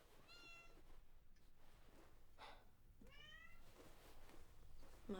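A cat meows twice, two drawn-out rising cries over quiet room noise, moderately close and without speech.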